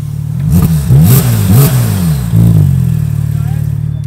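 Turbocharged Porsche GT car engine revving hard in several quick, loud bursts, each rising and falling in pitch, before settling into a steady idle.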